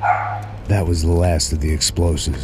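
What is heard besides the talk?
dog barking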